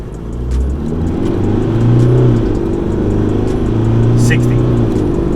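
A 2018 Isuzu D-Max with upgraded intercooler piping accelerates at full throttle, its engine note a steady low drone that swells and holds from inside the cab, with a voice talking over it.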